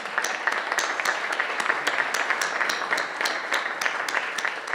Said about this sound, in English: now we have to applaud again as he walks across the stage